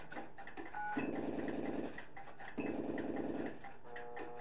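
A Strowger step-by-step telephone switch responding to dialing: two bursts of rapid mechanical stepping clatter, each about a second long, separated by quieter pauses and short clicks, heard up close.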